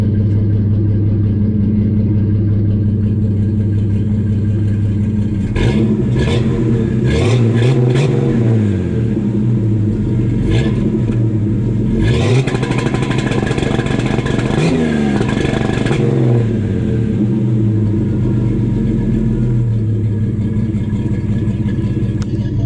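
A Jeep Cherokee engine with a Renix ignition system revs repeatedly on two-step launch control, loud and close, with sharp crackling bursts and held high-rpm stretches between idling, no talk.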